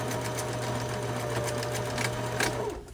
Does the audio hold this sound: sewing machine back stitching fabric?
yes